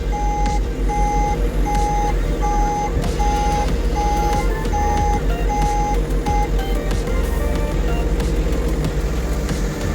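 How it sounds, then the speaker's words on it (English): Steady evenly spaced electronic beeps inside the cab of a Develon DX50 excavator as its quick hitch engages and locks, repeating about twice a second over a constant engine drone, then stopping. "Once the beeping stops in the cab from fully engaging or fully locking the quick hitch on"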